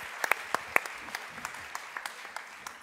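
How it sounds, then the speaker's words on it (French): A small audience applauds at a cooking lesson given by a chef, with sparse, distinct claps that are sharp and close at first and then thin out into scattered lighter ones, fairly quiet with no talk. "je crois qu'on peut applaudir Flora hein"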